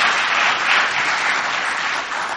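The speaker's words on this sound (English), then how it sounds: "you're going to see that you're applauding for Alcoholics Anonymous, not me" Audience applauding at an Alcoholics Anonymous regional roundup meeting in Kingsport, Tennessee, a loud, even wash of clapping lasting a couple of seconds.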